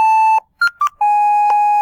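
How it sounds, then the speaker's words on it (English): Mission Impossible theme played as a ringtone through a VEX robotics speaker: loud, pure electronic beeps, long sustained tones broken by a quick run of short notes, heard alone. "so you hear Mission Impossible playing."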